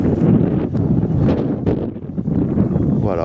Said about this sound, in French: Nous voilà arrivés sur le plateau, donc en plein vent comme hier.